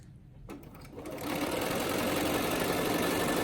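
A sewing machine runs while stitching a fabric face mask, starting with a few brief stitches and then settling into a fast, steady continuous whir up close.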